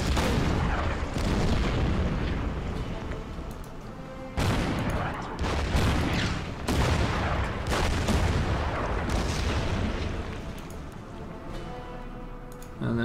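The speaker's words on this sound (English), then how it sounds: "Let's bomb it a little bit." Bombing of a town in the wargame Order of Battle: dense, continuous rumbling explosions and booming blasts, loud and sustained with a few sudden new impacts cutting in.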